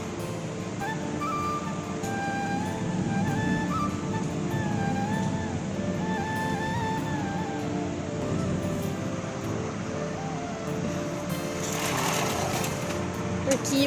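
An electric ceiling fan runs indoors on a rainy day, giving a steady whirring motor hum with a faint tonal whine that holds constant through the whole stretch.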